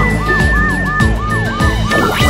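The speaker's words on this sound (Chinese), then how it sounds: "雷达警车" Cartoon police car siren wailing loud and close in repeated rising-falling sweeps over a steady tone and a bright synth melody line, about five cycles across the short stretch, with no talking.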